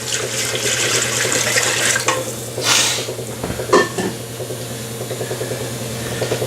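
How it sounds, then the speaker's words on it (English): Water pouring from a pitcher into a pot of chili beans, a steady splashing, running-water rush that carries through the whole stretch, close and fairly loud, with a few brief clanks and a low constant hum underneath. "I'm going to go ahead and put my water in. This is, you know, a pitcher full of water."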